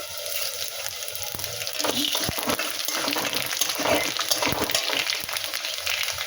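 Panch phoron spices crackle and sizzle in hot oil with bay leaf and dried chilli, a steady, close, busy fry with sharp pops throughout.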